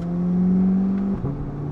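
A Corvette C8 fitted with a Valvetronic Designs exhaust idles at low RPM in Z mode while warming up, making a steady, close bass drone that dips and settles briefly near the end.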